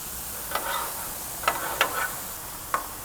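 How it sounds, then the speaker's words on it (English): Burger meat sizzles steadily on a hot Fusion griddle as a metal spatula chops and scrapes it, with a few sharp clicks of the tool against the steel surface over a constant frying hiss. "We'll start chopping everything up and moving it around."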